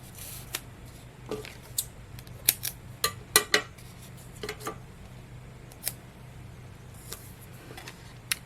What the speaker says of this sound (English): we're gonna cut about 3 strips